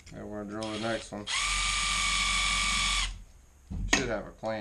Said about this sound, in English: And we're going to drill the next one.